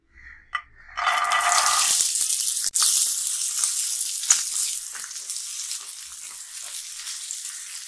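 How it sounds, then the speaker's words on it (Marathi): Peas hit hot oil with a sharp crackle, then a loud, steady sizzle continues, fading slightly over several seconds with occasional pops. "तेल तापलंय, मटर घालून घेऊया।"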